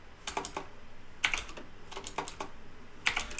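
Keys tapped on a computer keyboard in short irregular bursts of clicks with pauses between, close and clear, no voices.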